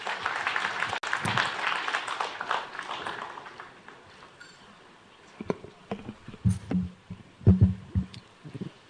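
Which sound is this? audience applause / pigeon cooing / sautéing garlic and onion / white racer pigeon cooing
audience applause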